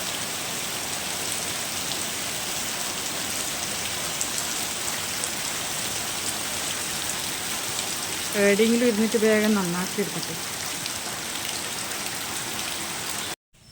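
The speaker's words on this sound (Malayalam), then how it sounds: "നല്ല മഴയാണ്" Steady heavy rain pouring down on surfaces, a dense continuous hiss throughout, with a person briefly speaking over it partway through.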